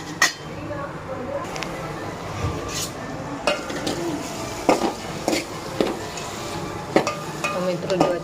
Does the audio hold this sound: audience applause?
no